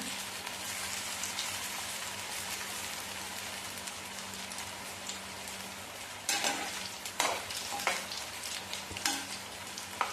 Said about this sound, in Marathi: तर त्या शेपूच्या वड्या आता तळून घेऊया